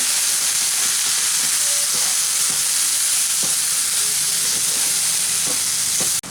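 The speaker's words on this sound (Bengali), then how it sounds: "এখন খুব ভালো করে এই মুসুর ডাল পেস্টটাকে এই পেঁয়াজ ভাজার সাথে মিশিয়ে নেব।" Masoor dal paste is stirred into fried onions in a pan, a loud steady sizzle with repeated scraping and knocking strokes of a spoon at irregular intervals, cutting off abruptly at the end.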